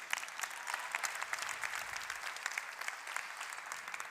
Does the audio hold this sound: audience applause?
yes